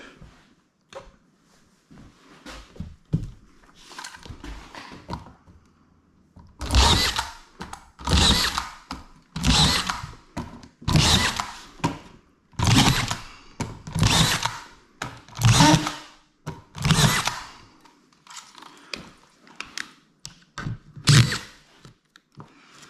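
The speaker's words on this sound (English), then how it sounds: "So you want to screw about every 8 inches on your butt joints, 12 inches in the field." Power drill driving screws into drywall on a house build, with repeated short whirring bursts separated by brief pauses, loud and close, no talk.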